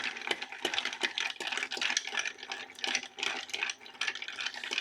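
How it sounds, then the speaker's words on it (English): A silver cocktail spoon, made from coin-ring silver scrap, stirs a cocktail with rapid, steady clinks and scrapes against ice and glass, a busy continuous jingle close by with no talk. "when you stir, nice and quiet, about 40 stirs"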